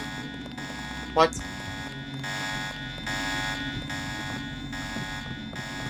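A repeating electronic alarm blares in the game Deus Ex: The Nameless Mod, a steady pulsing tone cycling about once a second, with a brief spoken exclamation over it early on.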